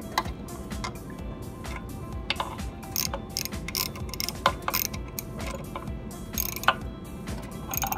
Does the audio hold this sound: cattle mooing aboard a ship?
no